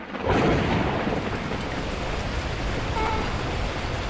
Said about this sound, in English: At that moment, the heavens opened up, unleashing torrential rain.